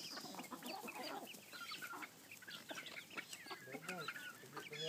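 Backyard chickens cluck steadily at close range, a busy overlapping chorus of short clucks and chatter with a brief crow-like call, under occasional quiet human voice.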